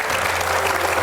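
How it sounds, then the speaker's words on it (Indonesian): Dense, loud applause from a studio audience during an Indonesian comedy talk show, a continuous even roar of clapping with no pauses. "Tepuk tangan dong."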